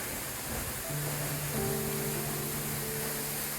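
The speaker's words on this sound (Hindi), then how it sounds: "देख लो कैसे गिर रहा है पानी।" A jungle waterfall pours over rocks as a steady broadband hiss and rush of falling water, constant and enveloping, with a faint low tonal hum drifting underneath.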